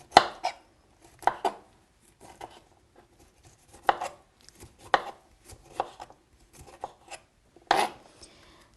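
A knife chops cauliflower into small florets on a cutting board: sharp, close cuts in irregular bursts with short pauses between them, and no voices.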